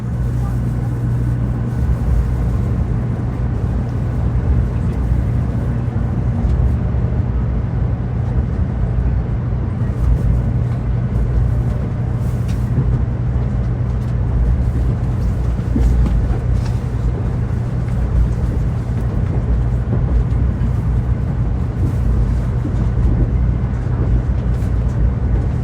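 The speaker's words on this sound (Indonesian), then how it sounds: "Kereta Hello Kitty Shinkansen yang saya naiki ini sudah diberangkatkan dari stasiun Shin Osaka" Interior of a Hello Kitty Shinkansen bullet train running after departing Shin Osaka station, a steady low rumble and hum of the moving carriage with faint rattles, continuous and even throughout.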